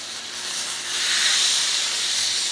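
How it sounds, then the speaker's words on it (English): A chuck roast sears on an oiled Blackstone griddle, giving a steady, loud hissing sizzle that swells slightly after the first second and holds. "you hear that sear?"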